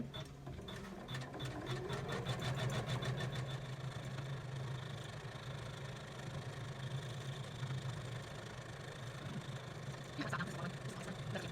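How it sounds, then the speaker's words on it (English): An embroidery machine stitches a felt cactus design with a steady, fast mechanical whirr and a low motor hum, close and continuous throughout, with quick rattling needle ticks near the start and a few faint clicks later. "now you can see that our second cactus is stitched out here"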